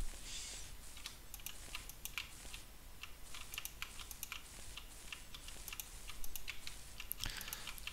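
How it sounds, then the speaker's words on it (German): Computer keyboard keys clatter in quick, uneven bursts while someone plays Minetest, with close, crisp clicks continuing almost nonstop and no talking. "man hört wahrscheinlich die ganze Zeit die Tastatur irgendwie"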